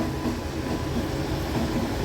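The Porbandar Muzaffarpur Express, hauled by a Vadodara-based locomotive, rolls through Gorakhpur station with a steady, loud, rumbling roar of wagons and no voices.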